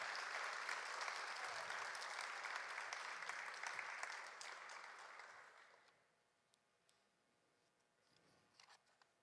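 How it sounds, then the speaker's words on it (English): Steady applause from an audience at a student film festival awards ceremony fills the first several seconds, then tapers off into a few scattered claps and quiet. "Let's give them a round of applause."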